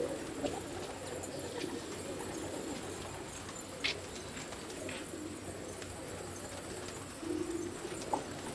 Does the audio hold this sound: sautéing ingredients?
no